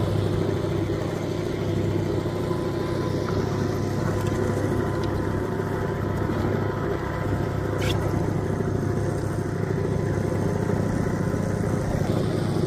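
A fishing boat's engine drones steadily and loudly at close range as it pulls away on calm water off Japan, a constant mid-pitched motor hum with no talking.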